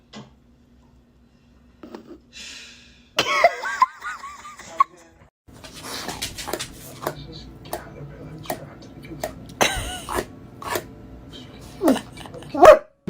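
A pet dog gives a few sharp barks among bursts of laughter and speech, loud and close, mixed with other household sounds.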